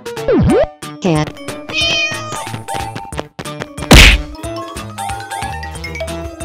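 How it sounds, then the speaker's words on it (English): A cat meows among cartoonish sound effects: a whack, chimes and musical jingles, with one sharp hit midway and short animated tones around it. "Cat."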